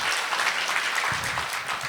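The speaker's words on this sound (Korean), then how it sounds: "애쓰신 여섯 분의 교수님께 다시 한번 감사의 박수 보내드리고요" An audience at an academic symposium claps in thanks to six professors, a dense, steady burst of applause from a seated crowd in a hall.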